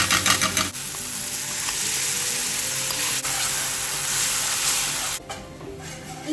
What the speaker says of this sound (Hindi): टमाटर ऐड कर रही हूँ।